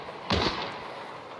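A single sharp gunshot from a player shooting in a video game, one loud crack with a short ringing tail and a second shot just starting at the end, heard at moderate distance.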